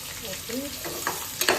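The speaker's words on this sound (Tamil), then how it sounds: "நல்லா வதக்கிட்டு மூணு சைடு வந்து வச்சுக்கணும்." Onions sauté in a hot pan with brief sizzling and frying crackle. Stirring scrapes and clinks sound close by, and a short faint vocal sound comes early.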